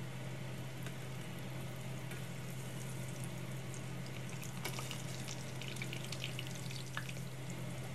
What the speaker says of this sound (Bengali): দুপিঠটা ভালোভাবে ভেজে নেব।